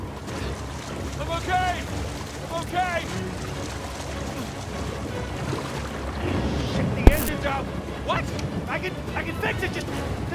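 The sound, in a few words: boat engine in Uncharted 4 video game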